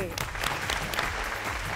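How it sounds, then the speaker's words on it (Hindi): Studio audience applause for a guest on a Hindi TV dance show, dense and steady throughout, with music and a voice faintly mixed underneath. "और अब जोरदार तालियां हमारी मिश्री की डली प्रीति अमीन जी के लिए।"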